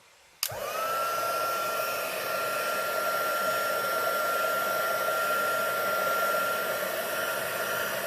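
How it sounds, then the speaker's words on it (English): A heat gun on its high setting switches on abruptly and blows with a loud, steady whine and rushing air until the end. "So this is our heat gun, and I'm going to put it on high, and it's going to be loud"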